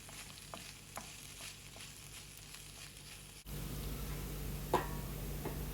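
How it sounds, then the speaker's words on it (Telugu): Ivy gourd curry fries in a pan while being stirred, giving a soft steady sizzle with scattered scraping clicks of the spoon that become louder and fuller partway through. "ఇలా దొండకాయల్ని ఇలా మధ్యలో కలుపుతూ ఫ్రై చేస్తూ ఉండాలి."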